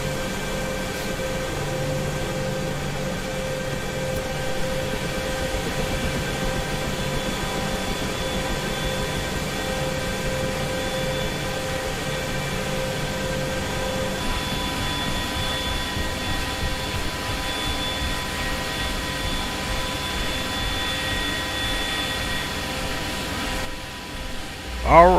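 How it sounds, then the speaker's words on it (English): AH-64D Apache helicopter rotor winding down with the rotor brake applied in the DCS World flight simulator, a steady turbine drone with whining tones that slowly shift, and someone talking over it before an abrupt change at the end. "And we'll get that rotor brake on."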